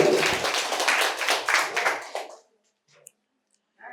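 At a medical college quiz competition, an audience breaks into dense, close applause for over two seconds, then stops abruptly, leaving a few faint clicks.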